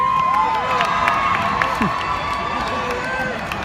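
A rally crowd in Ohio at an addiction awareness event cheers and shouts steadily, with whoops and scattered voices rising over a continuous roar of noise.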